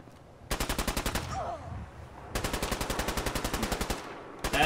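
Nick, a companion in Fallout 4, fires a rapid automatic weapon in two long, evenly spaced bursts of loud, close shots with a brief pause between them.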